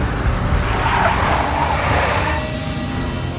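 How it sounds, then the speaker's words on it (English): Big black Mercedes skidding in the video game Max Payne, a loud sustained tire squeal over steady engine noise that eases off near the end. "A big black Mercedes."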